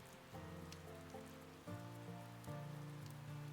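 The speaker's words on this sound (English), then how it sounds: "The rain outside pounded the roof in constant, steady rhythms." Rain pounds on a roof in a constant, steady patter, with dense even drumming and occasional louder drops, heard from indoors at moderate volume.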